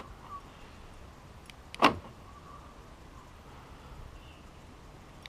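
A single short mechanical clunk of a VW Golf Mk5 central door lock actuating, preceded by a couple of faint clicks, in an otherwise quiet setting; one door fails to lock or unlock.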